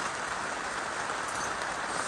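Steady rain hisses outdoors in an even, dense wash of pattering drops, continuous and moderately loud for the whole stretch with no talking.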